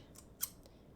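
A few quick, faint snips of dull scissors cutting through thin cheesecloth, one crisp snip standing out in the middle.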